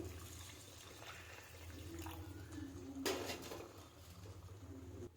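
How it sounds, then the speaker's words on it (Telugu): Water poured into a cooking pan of frying curry, a faint steady splash that swells briefly midway over a low background hum. "కాస్త ఉడకడానికి వాటర్ పోసాను"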